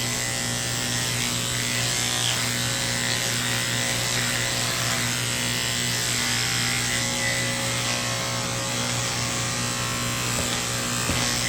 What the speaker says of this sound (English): Lift her up and shave her belly.